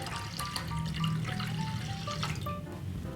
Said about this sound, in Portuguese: Também vou acrescentar 500 ml de água.